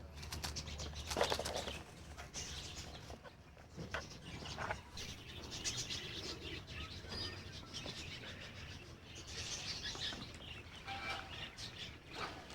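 Pigeons flutter and flap their wings in bursts, with soft coos and chirps scattered through a quiet outdoor background.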